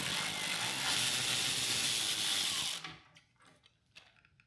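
A ratchet backing screws out of a Harley-Davidson license plate bracket, clicking in a continuous close-up run for nearly three seconds before it stops, followed by a few soft, scattered taps.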